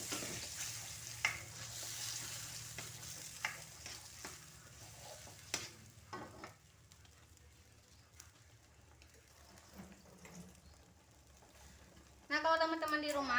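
Blended chili spice paste stir-frying in a wok, a soft steady sizzle with occasional scraping and stirring clatter beneath someone talking, louder sizzling bursting up near the end.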